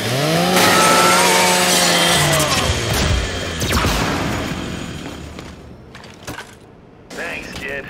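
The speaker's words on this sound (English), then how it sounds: "scrap that custodial unit for me. Just use your Lancer's chainsaw" The Lancer rifle's chainsaw bayonet in Gears of War 5 revs and grinds loudly through a metal custodial robot, a sustained whining roar that fades into clanks and scraping debris.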